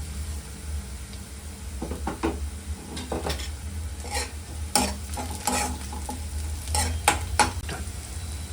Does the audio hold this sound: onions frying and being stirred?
yes